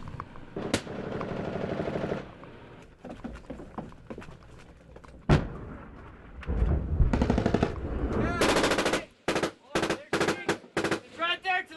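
Gunfire during a firefight at the Bari Alai outpost in Afghanistan, loud sharp shots and bursts of automatic fire with pauses between, mixed with other battle noise and voices.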